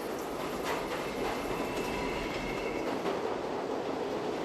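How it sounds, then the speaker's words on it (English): A subway train departs from a station, heard as a steady, loud rushing rumble with faint metallic squeal and clatter running throughout, with no voices. "Eventually he gets off the train and watches the train depart"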